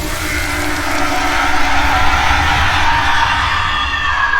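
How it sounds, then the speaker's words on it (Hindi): A woman's scream serves as a horror-story sound effect: a loud, sustained, shrill cry that stays fairly steady for several seconds, standing alone without speech. "माँ चिल्लाई"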